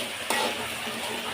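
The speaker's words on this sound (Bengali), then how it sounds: "পাঁচফোড়নের গুঁড়া দিয়ে ভালোভাবে নেড়ে নেব" Mango and chili pickle with five-spice powder stirred in a hot pan, giving a continuous close sizzle with a scrape of the spoon at the start and no talking.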